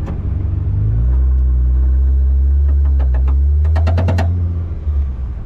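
A VW Thing accelerates with a loud, close engine rumble that builds and then eases, while a rapid metallic rattling from the front end clatters in a quick burst over the revving.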